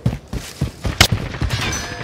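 Rapid gunfire in the shooter Modern Warfare, hardcore Search & Destroy mode: a burst of close, punchy shots in an uneven rhythm with one sharp louder crack in the middle, no talking.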